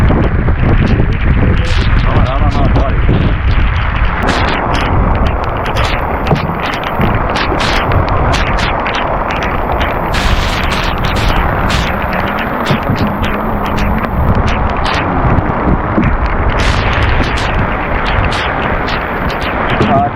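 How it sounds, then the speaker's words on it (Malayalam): Heavy Kerala monsoon rain pours in a loud, dense, continuous roar, dotted with sharp splattering hits and gusty buffeting throughout. "മഴ നല്ല മഴ."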